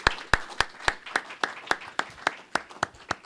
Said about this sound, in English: I think a round of applause is appropriate for our speakers